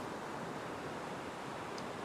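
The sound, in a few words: ocean waves breaking on a beach by a reef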